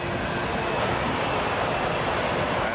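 An airplane engine roars steadily at Toronto Pearson airport at night, a loud, broad, continuous rumble with no pauses.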